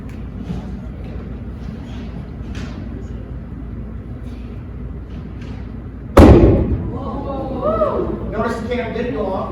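A loud hydrogen ignition bang from a chemistry demonstration at a student council event cracks out sharply after several seconds of crowd murmur and talk, followed by a lingering rumble and excited voices.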